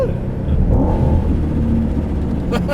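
A supercharged 2012 Ford Mustang GT engine rumbles and revs in a loud, continuous low drone, heard close up as if from inside the car.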